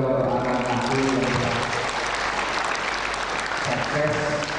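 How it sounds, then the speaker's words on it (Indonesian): A crowd in a hotel ballroom applauds at a college graduation ceremony, dense and sustained throughout, with a voice over a loudspeaker running underneath at the start and end. "Tepuk tangan juga untuk anak-anakku yang"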